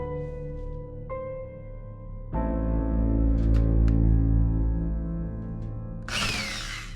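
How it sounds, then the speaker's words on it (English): A power drill whines at construction work, first at a lower pitch and then surging to a louder, higher-pitched running whir that climbs and falls, ending in a harsh burst of noise; close and steady, without speech. "There's a certain amount of noise that comes with construction."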